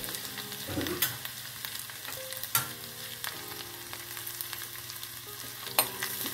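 Turmeric and cumin sizzle in a pan with a soft, steady frying hiss, broken by a few sharp clicks of a spoon against the pan; close, quiet and without voices.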